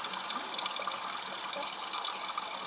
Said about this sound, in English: they've tapped it and they've got natural water flowing here